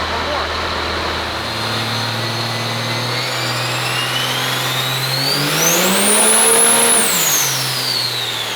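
A triple-turbo Ford engine screams on a dyno, revving steadily higher with turbo whine climbing to a loud peak before easing off, close and continuous.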